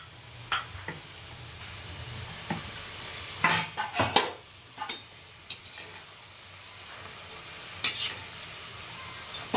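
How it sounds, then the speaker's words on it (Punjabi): Green peas frying in a pan for a homemade salted snack, a low steady sizzle broken by a few sharp stirring scrapes and clinks clustered in the middle, then fading back to quiet frying. "ਸੋ ਗਾਇਜ਼ ਇਹ ਆਪਣੇ ਮਟਰ ਫਰਾਈ ਹੋ ਰਹੇ ਨੇ"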